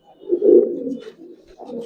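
Old-breed Giribaz pigeons coo nearby, a low, soft, rolling coo that swells and fades, then a second shorter coo follows.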